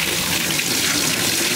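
Water pours steadily into a bucket at a Rottweiler kennel, a loud, close, continuous splashing rush with no break across the short stretch.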